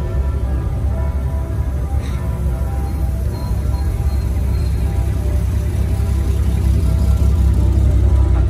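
A vintage V12 car engine drives past at Place Vauban, a steady loud mid and low engine roar with a faint rising rev toward the end, set against continuous street background.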